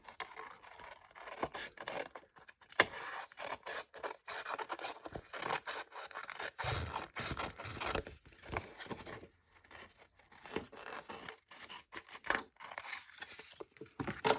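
Small snips cutting designer series paper around a Christmas stocking card, with many quick close snipping and rustling strokes in an irregular rhythm and brief pauses between runs of cuts.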